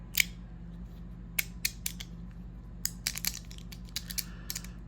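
Sharp, dry clicks from a fidget clicker slider toy, a single snap followed by scattered bursts of quick clicks in small clusters, close and crisp with no talking.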